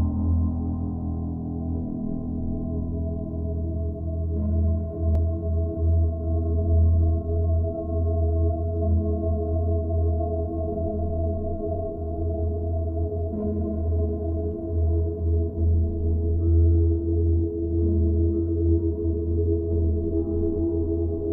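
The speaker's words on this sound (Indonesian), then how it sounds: "yang aku ambil sebagai sampel ini adalah suaranya drone." A steady drone ambience plays alone, a dense low hum with layered tonal bands that stays even and unbroken throughout.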